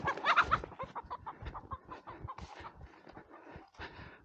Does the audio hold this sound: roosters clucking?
yes